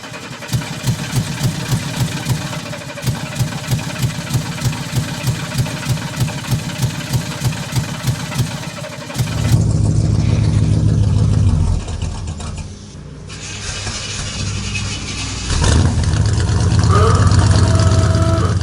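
A rough old truck engine in need of an overhaul idles with a steady pulsing chug, then shifts into a louder, heavier rumble with some uneven sputtering.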